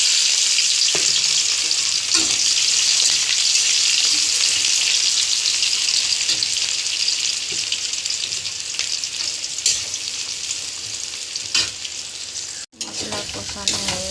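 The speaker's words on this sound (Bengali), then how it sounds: "তেলটা গরম হয়ে গেল, পেঁয়াজটা দিয়ে দেবো" Onion frying in hot oil with tomato, ginger-garlic and green chilli paste for a Bombay duck dish, a loud continuous sizzle with a few scraping stirs and a brief dropout near the end.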